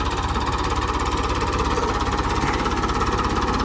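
An engine runs during mustard sowing, giving a loud, close, continuous rumbling drone with a fast pulsing throb that holds steady throughout.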